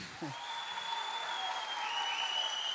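An audience at a Turkish pop stage show claps steadily from a distance, with a faint sustained tone ringing above the applause.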